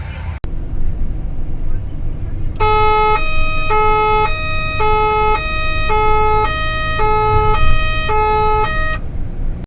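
A French ambulance's siren wails in a steady two-tone cycle while the vehicle is being driven, loud and continuous over road rumble, beginning a few seconds in after a sharp click.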